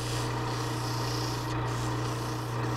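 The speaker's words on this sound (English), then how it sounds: "I'll sand up to them, but I won't sand them" Small piece of sandpaper rubbed on a turned wooden baluster on a lathe, a steady close rasping hiss over the continuous hum of the spinning lathe, with no talk.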